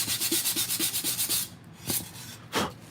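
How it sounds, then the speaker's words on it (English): Sandpaper of 120 grit rubs over a wooden piece for a tabletop diorama base, with a quick run of rhythmic back-and-forth strokes followed by a few slower, separate scrapes, close up and with no talking. "We can just take the 120 grit sandpaper"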